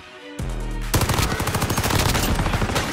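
Rapid automatic gunfire in the video game Warzone, a dense rattling burst that starts abruptly and runs continuously at close range, loud and unbroken, with no talk over it.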